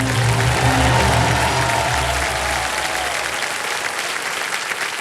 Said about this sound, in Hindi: एक बार जोरदार तालियां बजते हैं इनके लिए।